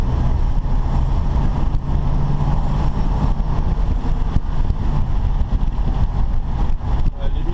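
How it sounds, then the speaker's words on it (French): A 1957 Pontiac Super Chief accelerates along a city street, its engine a steady loud roar with wind and road noise, a voice talking faintly over it. "Allez, on va mettre un peu de gaz sur la 182e rue."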